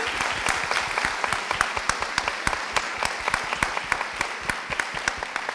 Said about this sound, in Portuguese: eu gostaria também uma salva de palmas para a minha ex-professora, coordenadora e colega